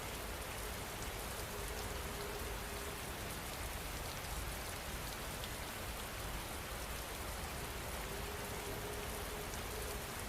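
Steady, dense rain falls continuously with an even hiss throughout, with no pauses and no voices.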